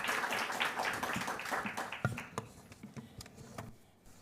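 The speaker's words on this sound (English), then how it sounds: "let's give him a round of applause once again" Audience applause at a workshop session on the just transition, a dense patter of clapping that starts full and thins out into a few scattered claps before fading.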